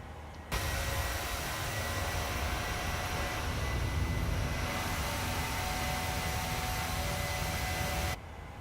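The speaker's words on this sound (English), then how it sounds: "We got the plane back climbing here." Boeing 737-900 airliner climbing in Microsoft Flight Simulator, a steady droning engine roar with broadband hiss that holds level for about eight seconds, then cuts off abruptly.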